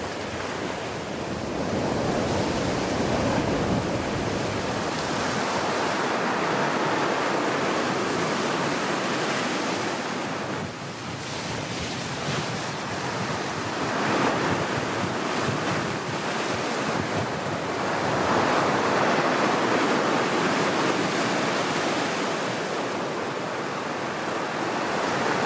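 Sea waves breaking on a shore where sea bream feed, a continuous loud roar of surf with rising and falling swells and some wind buffeting the microphone, no voices.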